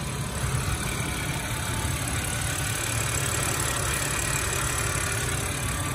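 Smooth, even idle of a German-import 2005 BMW 325i inline six-cylinder engine with electronic injection, heard up close as a steady low drone with a faint rattle and no voices.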